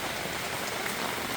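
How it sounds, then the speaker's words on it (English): Steady rain falls and patters on surfaces at Knoebels Campground, a dense, even hiss heard up close with no voices. "Got rain."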